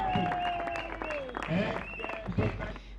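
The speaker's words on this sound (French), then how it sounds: "On applaudit pour le fédéral" An event audience claps in a steady patter, held under a man's ongoing speech that rises above it through the short stretch.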